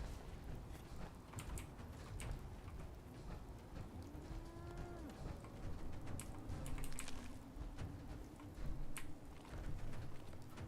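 Cow in the video game Fallout 4 letting out a drawn-out low moo, faint and set against a quiet game background with scattered clicks and creaks.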